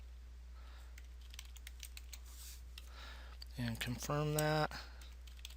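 Keys tapped on a computer keyboard while an email address and password are entered, light scattered clicks under a quiet voice speaking.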